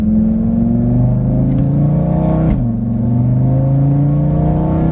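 500 whp Audi RS3 accelerating at half throttle, a loud close engine drone climbing steadily in pitch from inside the car, with a brief dip at a gear shift before rising again.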